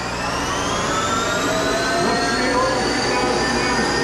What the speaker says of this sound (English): See, the dynamic brake stopped it to the speed I set it off fast.